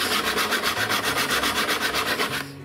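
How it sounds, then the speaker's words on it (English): Sandpaper rubbed back and forth over guitar wood during a repair, a steady run of quick, even strokes that sound close and loud, stopping abruptly near the end. "And then sand it back with sandpaper."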